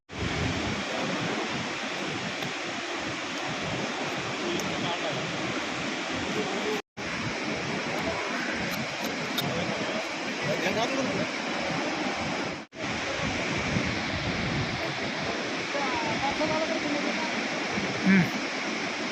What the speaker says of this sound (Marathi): आपल्या पाठीमागे ठोसेघर धबधबा आहे